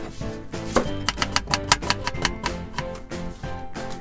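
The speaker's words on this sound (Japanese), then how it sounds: "まず玉ねぎ薄切りにしていきます。" Half an onion being thinly sliced with a kitchen knife on a cutting board, a quick run of crisp, sharp chopping taps in an uneven rhythm, close and clear with no voices.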